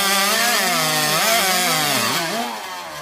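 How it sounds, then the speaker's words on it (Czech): A Bosch GAC 250 aerated concrete saw runs loud and close, its motor whining in a continuous warbling tone that shifts in pitch as the chain cuts, then eases slightly at the end. "Teď s pilou můžete začít pracovat."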